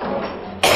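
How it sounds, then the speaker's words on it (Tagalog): A phlegmy, wet cough in a Filipino Department of Health anti-tuberculosis radio ad, one sudden loud burst coming after a steady stretch of background sound. "Iho, may plemang imong ubo."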